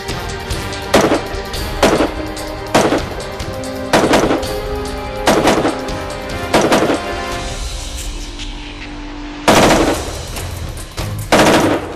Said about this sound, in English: The SIG 516 can fire mixed ammunition consistently and accurately thanks to its multiple gas valve settings.